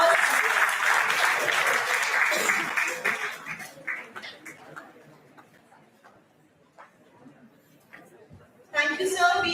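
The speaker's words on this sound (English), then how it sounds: "Ladies and gentlemen, please put a huge round of applause." Audience applause at a dental sciences conference starts loud and full, then thins to scattered claps and fades, with voices and a speaker returning at the end.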